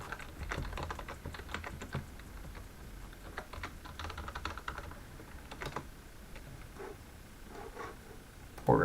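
Rapid, irregular keystrokes on a computer keyboard while searching an online order history, clicking steadily and close by for the whole stretch with no one speaking.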